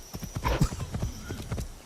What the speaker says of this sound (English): that post from Jor about Ubisoft's kind of lazy mounts in Shadows that have horse sound effects